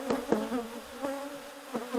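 Honey bees buzz steadily around an opened hive during a queen cell check, with the colony agitated. The hum is close and continuous and swells in a few louder passes.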